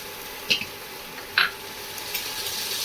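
Onions with salt, ginger and garlic hiss gently in a pan under a steady sizzle, broken by two short scraping stirs of a spatula.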